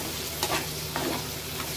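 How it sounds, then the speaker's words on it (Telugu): Prawn curry being stirred after coriander leaves and coriander powder go in, with steady scraping strokes over a soft, constant sizzle and no talking. "కొద్దిగా పైన కొత్తిమీర వేసుకోండి అండ్ ధనియా పౌడర్ కొద్దిగా వేసేసుకొని బాగా కలుపుకోండి."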